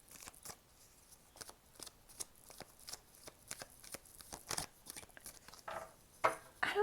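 Tarot cards being shuffled up close, a run of quick soft riffling flicks and papery snaps that grows a little louder toward the end, with no one talking.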